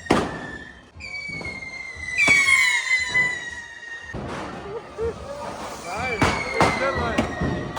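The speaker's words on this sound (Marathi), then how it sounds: "इकडं फटाक्यांची आतिषबाजी होते" Fireworks and firecrackers bursting at a Bahiri god immersion procession, with whistling rockets rising and sharp cracks and bangs in quick succession, crowd voices and shouting mixed in.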